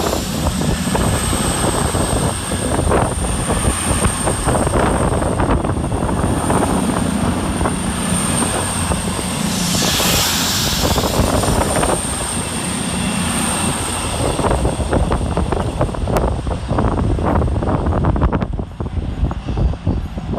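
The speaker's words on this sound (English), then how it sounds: "we see the departure of 221113 and 221102, running 6 minutes late with the 1424 Avanti West Coast service from London Euston to" Two Avanti West Coast trains departing Stafford railway station together, a loud continuous diesel engine roar and rumble that holds steady throughout, with no voices.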